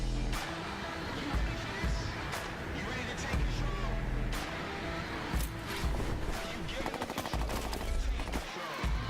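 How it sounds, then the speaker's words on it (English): Rapid gunfire from a futuristic AK rifle in a video game trailer shown at E3 2018 rattles in dense bursts, mixed with loud trailer music and effects throughout. "Ew, that AK. Got a bunch of future shit on it."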